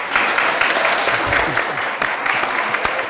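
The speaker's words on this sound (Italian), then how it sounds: "Finalmente un bel applauso" An audience at a Friuli youth event in March 2018 claps steadily for a guest, a close, fairly loud wash of hands with occasional louder claps, no speech over it.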